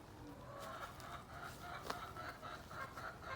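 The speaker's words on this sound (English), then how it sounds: "You might be hearing my chickens." Backyard chickens cluck and call faintly outdoors in a garden, a low continuous chatter of the flock with a few sharper bursts, distant and quiet.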